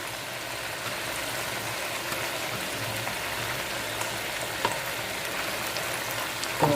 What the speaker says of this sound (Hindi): कढ़ाई हमारी अल्हम्दुलिल्लाह ये देखो बिल्कुल अच्छे से भून चुका है चिकन हमारा सारा कुछ